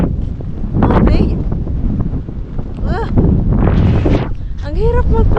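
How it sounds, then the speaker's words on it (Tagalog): Strong gusts batter the microphone in heavy, uneven buffeting during a storm outdoors in Kotka, Finland, while someone talks in bursts between the rushes. "Ay, grabe yung hangin, ang lakas."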